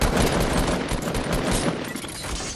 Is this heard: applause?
no